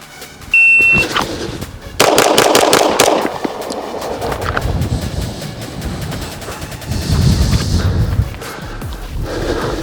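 Gunshots from a Beretta 92Xi Squalo pistol fitted with Langdon Tactical parts, fired outdoors at a range: a few loud sharp reports with trailing echo and rumble, close by, following a short timer beep.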